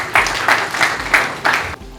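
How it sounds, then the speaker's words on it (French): An audience at a conference claps in a few short bursts, crisp and fairly close, with pauses between each swell of applause. "Est-ce qu'on peut également applaudir pour lui?"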